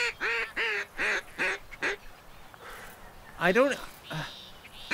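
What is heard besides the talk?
ducks quacking in video game Duck Dynasty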